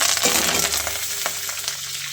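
Mustard seeds and curry leaves splutter in hot oil while tempering a ridge gourd chutney, giving a dense, continuous close crackle and sizzle with sharp pops throughout and no speech.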